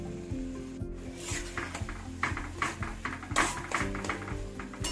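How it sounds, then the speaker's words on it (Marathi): Mashed eggplant is stirred into a sizzling tempering with tomato, salt and turmeric. The spoon rubs and scrapes the pan in an uneven rhythm over a soft, constant sizzle, fairly quiet and close. "हे वांग या सगळ्या फोडणीसोबत छान असं एकजीव करून घ्यायचं आहे।"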